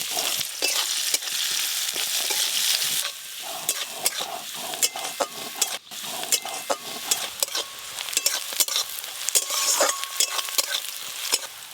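Chopped onion and whole garam masala sizzling in hot oil for rui posto, a Bengali fish dish, with steady frying hiss broken by frequent stirring scrapes and clinks of a spatula, close up with no talk.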